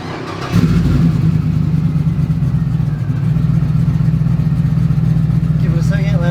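A Toyota 4Runner engine hums loud and steady from close by during a slow drive around the block, a low droning rumble that holds even throughout after starting up.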